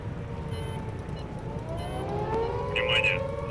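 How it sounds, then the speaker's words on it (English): Wailing sirens in the HighFleet war game rise and fall over a low rumble, with faint warning tones cutting in, a voice mumbling underneath, and the wail growing slightly louder toward the end. "Why am I hearing sirens?"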